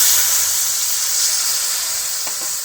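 Water is poured into a pan of plums seasoned with salt and turmeric, being readied to boil for a sweet pickle. It makes a steady, close rushing hiss for a couple of seconds, and a few faint knocks come near the end.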